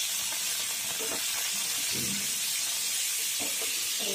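Potatoes drop into hot oil in a pan, with a steady sizzle and hiss throughout and a few soft thuds as pieces land, heard close with no talking.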